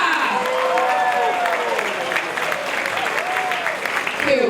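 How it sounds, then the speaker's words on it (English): An audience at the International Baba & Nyonya Convention in Melaka gives a round of applause for a Nyonya guest: dense, sustained clapping with a voice and music-like tones running over it. "Big round of applause for the everlasting Nyonya"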